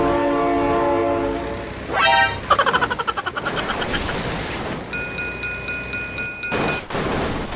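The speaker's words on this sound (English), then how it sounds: "Oh my God, train!" A train roars past in the BeamNG Drive driving game, its horn blaring in loud sustained blasts over rumbling wheels, followed by a rapid rhythmic clatter of railcars and a bright ringing crossing-bell-like tone, close and dominant.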